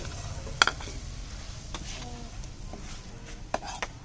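Almond halwa being stirred with a spoon in a pan over the stove, a faint, soft scraping with a few sharp clicks of spoon against metal, no talk.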